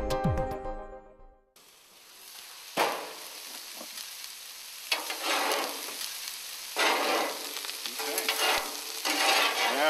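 Onions, peppers and habaneros sautéing for veggie tacos, a loud hiss bursting in as the food hits the pan, then steady sizzling with repeated swells of stirring and scraping, close by and without talk.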